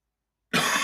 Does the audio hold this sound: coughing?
yes